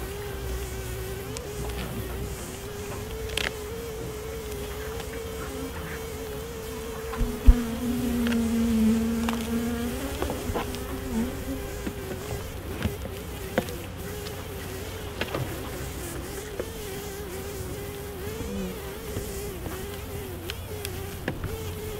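Honey bees buzz around hives at a city farm in Nottingham, a dense, continuous, close drone with individual bees passing near and a few faint knocks, without any talking.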